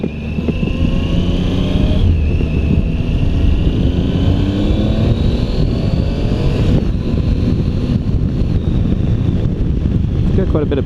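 A 2016 Triumph Tiger 800XC motorcycle engine drones steadily and loud throughout, its pitch rising and shifting as it revs, with wind buffeting the microphone.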